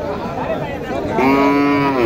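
A cow at a rural cattle market in Naogaon lets out a loud, close, sustained moo in the second half, rising out of a busy crowd murmur.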